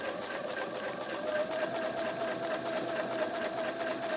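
A sewing machine runs steadily, quilting straight stitches through rolled fabric, a continuous close mechanical whir with a sustained tone and no talking.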